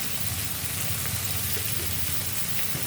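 Mutton and boiled potatoes frying in a pan with salt, turmeric and ground spice paste, a dense steady sizzle up close with occasional stirring.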